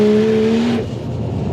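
Loud, close revving from a 450 kW Ford Falcon XR6 Turbo fitted with a screamer pipe, a strong rising engine note that drops off sharply partway through into a rougher, lower rumble.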